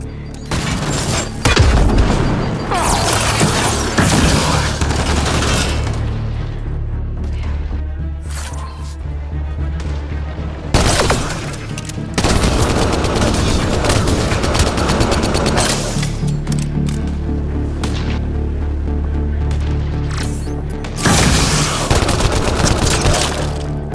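Dense enemy gunfire in a Mass Effect: Andromeda battle, loud and sustained with booming impacts and sharp cracks layered over a constant roar, brief lulls between heavy bursts.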